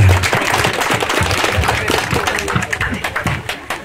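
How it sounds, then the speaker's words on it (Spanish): Applause from guests at a baptism celebration, a steady dense patter of many hands clapping close by, continuing at an even level throughout. "Fuerte los aplausos, señoras y señores"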